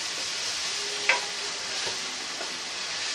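Biryani masala sautéing in a pan for Hyderabadi chicken dum biryani: a constant close sizzle with a sharp utensil clink near the start and occasional stirring scrapes, with no voices.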